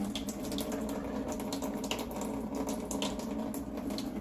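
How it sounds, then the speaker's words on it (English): Water runs continuously from a water ionizer's outlet, a steady close splashing stream with an even, unbroken hiss and no talking. "You can hear the water coming out here."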